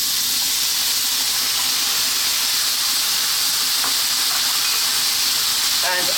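Fresh tomatoes hiss and sizzle in a hot frying pan during vegan cooking, a steady, loud, close crackle with a few faint clinks near the end.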